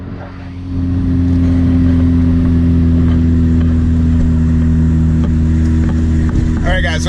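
A BMW engine swapped into a Volvo is floored in second gear; the drone jumps after a moment into a loud, close, sustained roar that holds steady as the car pulls.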